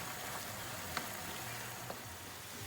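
Food sizzles steadily in a hot pan while a utensil stirs it, with a couple of faint scrapes against the pan surface, while cooking Kayseri yağlaması (şebit).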